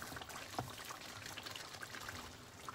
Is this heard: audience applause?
no